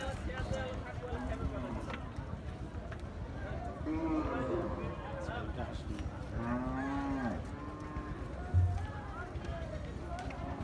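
Sahiwal bulls on a farm give several low, drawn-out moos, close by, over a background of people talking and shuffling movement.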